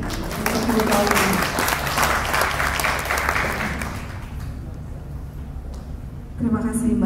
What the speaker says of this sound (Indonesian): kita beri tepuk tangan yang meriah untuk Ibu Paulina